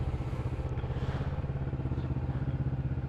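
Close, steady low rumble of a Kawasaki Vulcan S motorcycle engine pulsing evenly as the bike sets off, with no voices over it.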